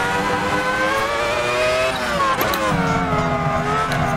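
A 1999 Ferrari F1 V10 car driven at Fiorano in Assetto Corsa wails loud and close under steady throttle, its pitch dipping and climbing through gear changes across the whole stretch.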